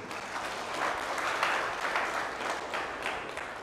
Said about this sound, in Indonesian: Ini tepuk tangan untuk KPU ini.